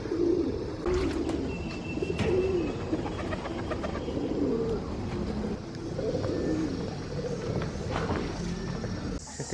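Pigeons cooing in repeated soft, low phrases, close by, at a cemetery in Chiang Mai, Thailand, with faint footsteps and background hum.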